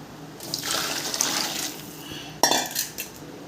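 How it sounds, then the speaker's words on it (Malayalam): Hot water is poured into a pot of rice, giving a splashing, gurgling rush that begins softly and ends in a brief sharper splash and clatter of the pot. "ഞാൻ ചൂടുവെള്ളം പെട്ടെന്നായിട്ട് വേണ്ട ചൂടുവെള്ളമാണ് ഒഴിക്കുന്നത്."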